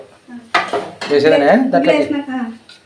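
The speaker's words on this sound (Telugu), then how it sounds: "ఇట్లయితే ఇంకా గుడ్లు వేసేద్దాం" Eggs go into a pot of egg pulusu (tamarind curry sweetened with jaggery) in a home kitchen, heard as close clattering of a spoon and pan with brief stirring and a faint simmer.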